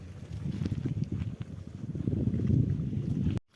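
Cool wind blowing across a rice paddy field, a steady low rumble of gusts buffeting the microphone, loud and continuous before cutting off abruptly at the end.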